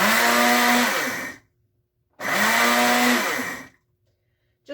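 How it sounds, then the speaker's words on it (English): A countertop blender pulses roasted salted sunflower seeds into powder, two loud whirring bursts of about a second and a half each, with a pitch that sinks as the motor bogs down and then rises again, separated by silence. "We're going to pulse those in the blender, kind of make a little bit of a powder out of them, just to grind them up a little bit."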